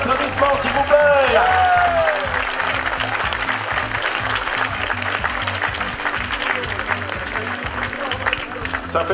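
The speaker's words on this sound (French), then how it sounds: "on l'applaudit encore plus fort, allez encore, 20 secondes d'applaudissements s'il vous plaît" Crowd applause at the final podium ceremony of the Essor Breton 2012 cycling race, loud sustained clapping with a voice speaking over it at the start.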